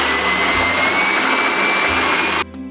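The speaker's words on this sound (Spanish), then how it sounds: "voy a empezar por batir los huevos" An electric mixer beats eggs for a white chocolate flan with a loud, steady motor whir, its pitch shifting slightly, until it switches off near the end.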